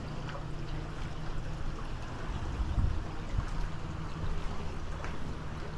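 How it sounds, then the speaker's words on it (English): Gentle babbling brook, water trickling and burbling steadily nearby with no voices, a soft continuous flow. "Little creek, a babbling brook right in front of the place."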